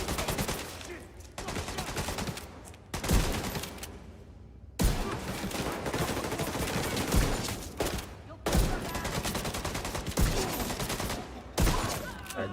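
Sustained automatic gunfire from a strong gun in The Division 2, loud, dense bursts of rapid shots broken by short pauses, repeating throughout.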